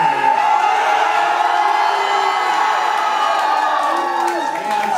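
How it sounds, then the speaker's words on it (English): Fans at a heavy metal battle of the bands roar and whoop in a loud, sustained wall of crowd cheering that carries on throughout. "you guys have the loudest fans I've ever heard"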